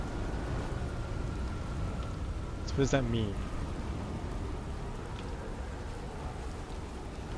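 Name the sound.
storm with rain and thunder in the video game Outer Wilds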